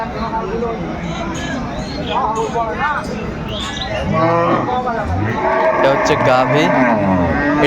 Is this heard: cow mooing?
yes